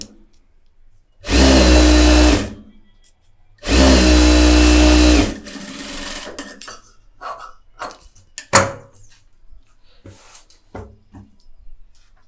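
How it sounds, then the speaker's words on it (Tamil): A sewing machine stitches along the edge of a piece of fabric in two loud bursts of about a second each. Quieter handling clicks and rustles of the cloth follow, with one sharp knock. "இப்போ நான் ஓரத்தில் தையல் போடுறேன், அந்த எஜ்ஜு தையல்."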